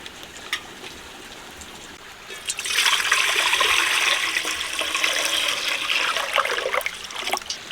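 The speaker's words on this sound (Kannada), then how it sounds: "ಈಗ ತಪ್ಪಲಿ ಇಟ್ಟು ನೀರು ಹಾಕ್ಬೇಕು." Water poured into a cooking pot, a steady splashing stream that starts abruptly partway through and runs continuously to the end, close and loud with no talk.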